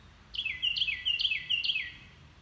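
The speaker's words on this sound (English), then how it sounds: "Hear my loud bird? Got a loud bird." A loud, high bird call repeats three times in quick succession, each a bright sweeping whistle, standing out clearly over quiet outdoor background.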